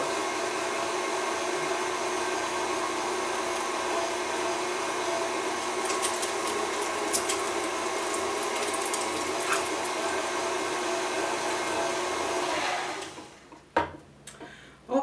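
An electric meat grinder runs with a steady whirring motor drone while grinding pork roast, close and even throughout, before switching off and giving way to a few handling clunks.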